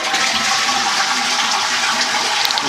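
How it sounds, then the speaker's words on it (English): A WC cistern toilet with its lid removed flushes in a loud, close rush of water that runs steadily throughout. "so that when we flush the toilet"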